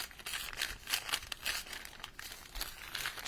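A repurposed paper bag crinkles and rustles as it is worked open by hand, with soft crumpling bursts and a few sharper tearing-like crackles repeating steadily and close up, no voices.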